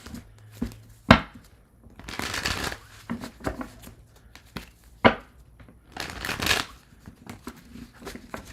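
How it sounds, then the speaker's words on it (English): Tarot cards being shuffled in several bursts of papery riffling and snapping, with sharp clacks between, close by and fairly quiet. "Couple more shuffles and we will move on to lay fire signs."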